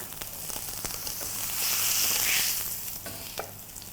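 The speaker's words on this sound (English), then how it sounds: "Alright, now I'm going to flip the steak." A rib-eye steak sizzles steadily in a hot pan, the frying hiss swelling louder for a moment as it is flipped and then settling back, with a few small clicks and spatters and no talking.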